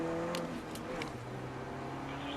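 A GP2 race car accelerating and shifting up on a circuit, a steady engine drone heard from inside or near the car with brief bursts as the gears change.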